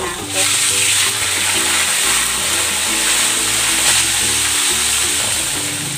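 Tilapia fries in hot oil with a loud, dense crackling sizzle that holds steady throughout, close up, with a low rumbling hum underneath and no voices.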